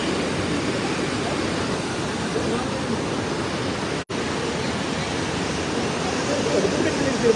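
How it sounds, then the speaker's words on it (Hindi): The Poonch River rushing past at the Share Kashmir Bridge, a steady, loud broadband roar of flowing water that continues without a break apart from one brief dropout partway through. "दरिया"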